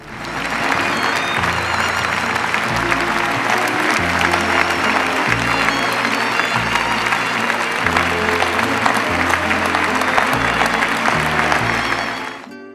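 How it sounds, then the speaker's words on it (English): An audience applauds at a Venice Film Festival premiere, with dense, sustained clapping that fills the space for over ten seconds at an even loud level before it cuts off, while music tones play underneath. "Applause everywhere for Cimino."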